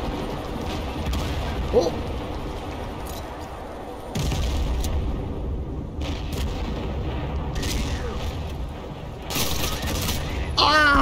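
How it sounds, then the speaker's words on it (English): Artillery fire booms continuously through a tank battle video game siege, with dense overlapping blasts and rumbling explosions at steady loudness, and a brief exclamation from a man partway through. "looks like the artillery is missing a little bit every now and then"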